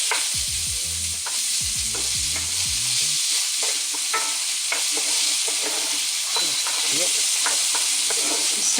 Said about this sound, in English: We're just frying corn.